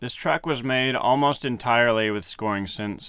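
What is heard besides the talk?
No everyday noises stand out.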